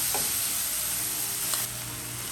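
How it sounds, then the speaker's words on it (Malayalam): Tomato and onion sautéing in a pan for a chicken gizzard dry fry, a steady close sizzle with a brief scrape of stirring near the start and another around the middle, no voices. "അതിനെ ഒന്ന് ആ ടൊമാറ്റോ ഒന്ന് സോഫ്റ്റ് ആകുന്നിടം വരെ വഴറ്റിയെടുക്കാം"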